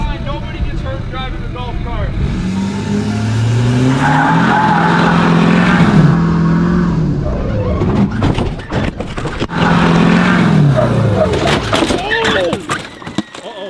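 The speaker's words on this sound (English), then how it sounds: "hit the gas when CJ hits the brakes" A vehicle engine revs hard while a golf cart is unloaded, with loud tire squeal and skidding bursts rising and falling, and people shouting and laughing over it.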